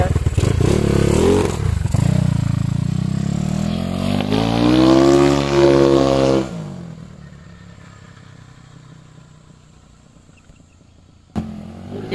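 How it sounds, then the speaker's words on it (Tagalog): A Yamaha Mio scooter, just fitted with four new tires, runs and revs loudly and close for about six seconds. Its engine then drops to a faint low idle, and a sharp knock sounds near the end. "Medyo malakas po yung motor nila."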